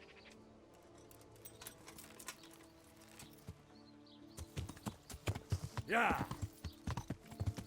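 Horse hooves clip-clop in the Kingdom Come: Deliverance video game, starting faint and building into a louder, quickening run of hoof falls in the second half over quiet ambience; a person says a word briefly.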